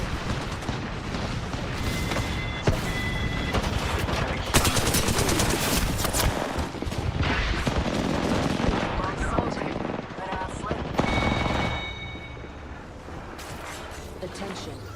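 Airstrike bombardment in the Apex Legends game, loud sustained booming blasts and rapid gunfire rolling over one another for the whole stretch, with voices talking beneath the barrage.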